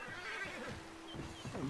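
A Mahogany Bay Tennessee Walker horse in Red Dead Redemption whinnies loudly and close, a wavering neigh running through most of the short moment and rising again near the end.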